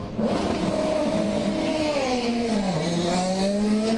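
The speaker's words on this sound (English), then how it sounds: "In fact, they're firing motors." Race car engines fire up during CART qualifying in Monterrey, Mexico, in 2005: a loud, steady, close-up motor drone with harmonics sliding down and then back up, running unbroken for about four seconds without talk.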